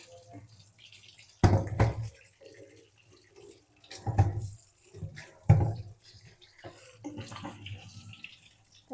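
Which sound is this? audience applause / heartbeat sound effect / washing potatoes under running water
washing potatoes under running water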